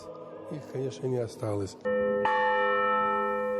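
Church bells of the Voskresensky Cathedral in Semey, heard after someone speaks briefly: a strong bell strike rings out and sustains with bright overtones, and a second strike layers on top as the tone hangs in the air.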